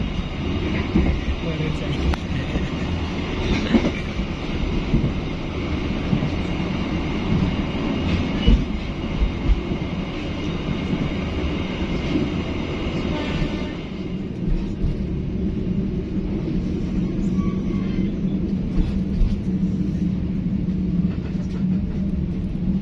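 Baturraden Ekspres passenger train running between Bandung and Purwokerto, heard as a continuous low rumble of wheels on rail with faint rhythmic clacks, steady and close, as from inside a carriage.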